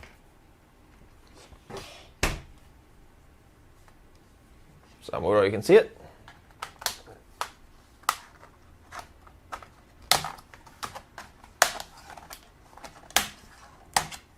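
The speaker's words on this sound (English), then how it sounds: "I'll take my small flat metal pry tool and I'm going to start unclipping this keyboard." A small flat metal pry tool unclips the keyboard of a Lenovo G70-70 laptop, giving sharp scattered plastic clicks and snaps and a brief scraping crackle, close and fairly loud, with a person talking between them.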